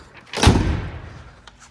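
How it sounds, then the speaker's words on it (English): A car door on an original 1957 Chevrolet Bel Air swings shut with one solid, close thump that rings out briefly, with no talking. "Let me close this door here."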